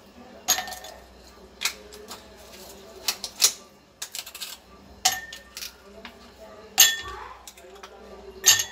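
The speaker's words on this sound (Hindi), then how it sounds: "इसमें पहले आइस क्यूब डालेंगे।" Ice cubes drop one after another into a glass for mint lemon sharbat, giving a series of sharp, bright clinks spaced irregularly, close and fairly clear over a faint background.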